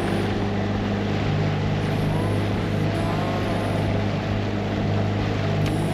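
A Tohatsu outboard motor on a Cabesto inflatable dinghy runs steadily throughout, a loud, continuous engine drone with constant wind and water noise and no change in pace.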